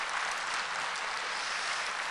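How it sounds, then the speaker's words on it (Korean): A church congregation at a Sunday worship service applauds steadily to welcome a new choir pianist, an even, continuous wash of clapping heard at moderate distance. "우리 박수 한번 하겠습니다."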